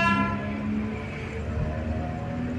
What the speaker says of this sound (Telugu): వచ్చేస్తుందండి తిరుపతి చర్లపల్లి స్పెషల్, అదేనండి సంక్రాంతి స్పెషల్.